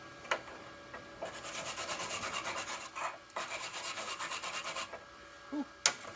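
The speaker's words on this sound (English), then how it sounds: "Maybe that's a thing with an inverter welder like this." An ArcCaptain MIG130 inverter MIG welder lays down two welding runs, each a close, steady crackling sputter lasting about a second and a half, separated by a brief pause and followed by a sharp click.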